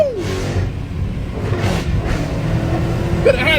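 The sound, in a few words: 1970 1/2 Camaro engine revving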